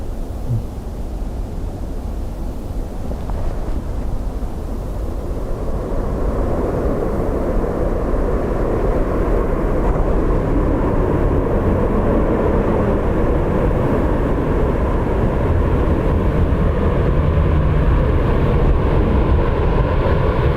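Airliner roaring steadily at Dublin Airport, a loud broadband jet rumble that builds and holds throughout, heard alone with no talking.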